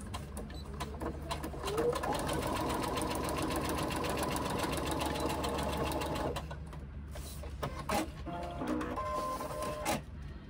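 A sewing machine stitches fabric pieces together in a fast, loud, continuous mechanical whir for about six seconds, then stops and gives way to a few short clicks and bursts of stitching.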